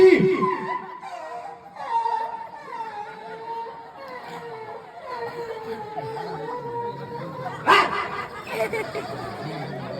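A dog barks in short bursts near the start and again later, mixed with laughter and lively talk during a comic folk Ramamandal stage show.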